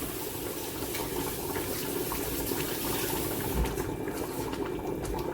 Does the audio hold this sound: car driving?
no